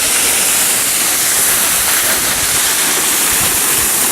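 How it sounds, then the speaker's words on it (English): A waterfall pours in a steady, loud broadband rush of falling water, close and unbroken, with no voices. "That's a really cool waterfall."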